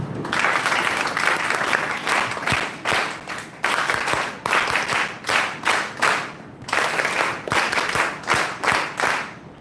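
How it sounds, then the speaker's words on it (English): A seminar audience at an NSS unit event on e-waste claps a welcome in a rhythmic patterned clap, bursts of unison claps repeating in regular groups, loud and close with little talk. "I think you all can welcome her with NSS clap"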